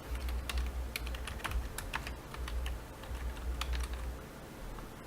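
Rapid typing on a computer keyboard while entering an email address, with clustered, irregular key clicks and a few sharper taps over a steady low hum, close and fairly quiet, with no talking.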